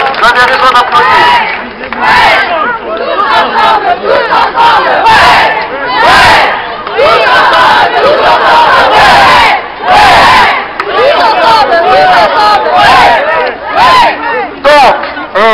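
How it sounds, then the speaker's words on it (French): Rally crowd backing the Hayange and Mont-Saint-Martin hospitals roars and shouts in loud, rhythmic bursts, like chanted cries, separated by brief dips, sustained and close for the whole stretch. "les acclamations et les cris prouvent bien que chacun a sa place ici dans ce combat"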